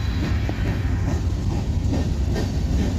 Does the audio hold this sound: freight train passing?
yes